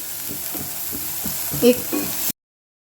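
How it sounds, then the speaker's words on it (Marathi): Chopped coriander hisses in hot tempering oil for Maharashtrian pithla with a close, steady frying sizzle and scraping stirs, a sharper spit midway, then sudden silence. "आपण फोडणीतच कोथिंबीर घालणार आहोत"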